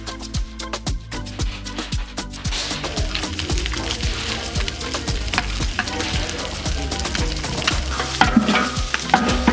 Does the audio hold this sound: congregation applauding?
no